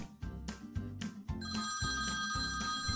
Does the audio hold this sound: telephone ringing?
yes